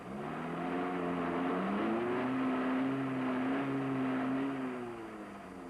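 A 1974 Land Rover engine revs hard under a sudden burst of power as its wheels spin in sand, a loud sustained droning note that rises and holds before easing off.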